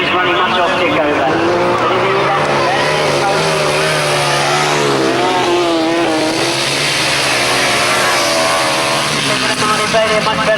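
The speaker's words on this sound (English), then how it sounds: "Listen to the beat of that engine." Grasstrack racing engines at the 1991 British Masters round one, a loud, continuous throbbing engine beat with rising and falling pitch as riders pass close by, running throughout.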